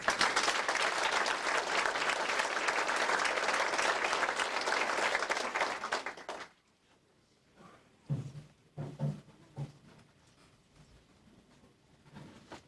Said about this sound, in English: I'd like everyone in the room to give them a big round of applause